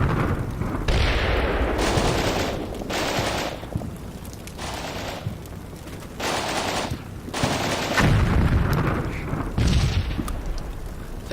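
Bursts of 30mm cannon fire hammer buildings in the game Combat Mission Black Sea, loud repeated rapid volleys lasting a second or so each, separated by short gaps and heavy booming impacts.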